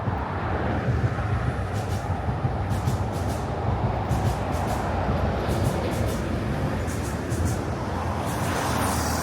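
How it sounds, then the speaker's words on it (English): A train runs along elevated MRT tracks near Yio Chu Kang in Singapore, a steady broad rumble that holds at an even loudness throughout, blended with nearby road traffic. "I think I hear a train."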